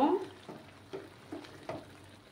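Bengali-style pineapple chutney frying on a high flame gives a soft, low sizzle, broken by several quiet scraping stirs spaced at regular intervals.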